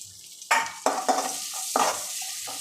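Whole cinnamon, cloves and cardamom fry in oil and butter in a pan, giving a steady sizzle broken by several loud scraping stir strokes close by, with no talking.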